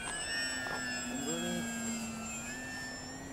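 An Old School Model Works One-O Nine RC model airplane flies overhead with a steady, whining engine drone that holds a fairly constant pitch and fades slightly toward the end.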